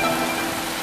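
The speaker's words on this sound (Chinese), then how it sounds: "我终于见到下雨了" Rain falls as a steady, dense hiss with no break, filling the short moment without any voices.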